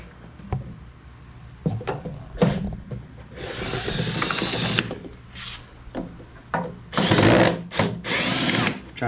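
Power drill backing out Phillips head screws on a Crazy Cart XL: short bursts of whirring, close by, separated by clicks, handling clatter and brief pauses.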